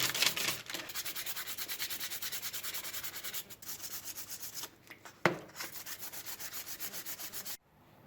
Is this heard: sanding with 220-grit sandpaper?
yes